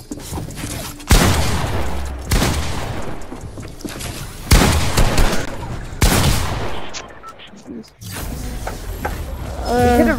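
Video game gunfire in repeated loud bursts, with rapid volleys and booms separated by short gaps, as players talk over it.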